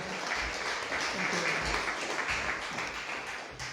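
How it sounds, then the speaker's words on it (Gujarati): Audience applause at a Gujarati literary festival poetry evening as a poet is invited to the stage, steady dense clapping throughout, moderately loud and continuous, with a little talk beneath. "એકવાર જોરદાર તાળીઓથી આપને."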